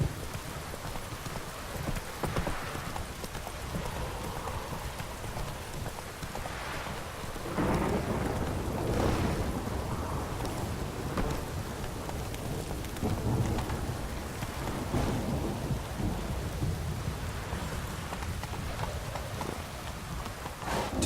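Hooves clip-clop steadily through a rainstorm in The Witcher 3, with rolling thunder and constant rain hiss behind the galloping horse.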